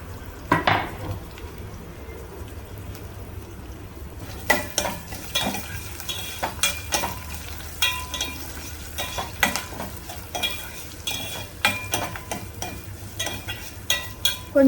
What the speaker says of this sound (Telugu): మన ఆనియన్స్ ఫ్రై అయ్యాయి.